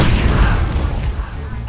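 A bomb goes off in an animated scene set at a cake shop being demolished, a loud deep boom that rumbles and fades over a couple of seconds.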